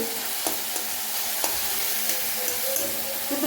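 Chicken pieces sizzle loudly in a hot pan for a spicy Bengali chicken kosha, a steady close hiss with a few faint clinks of stirring over it.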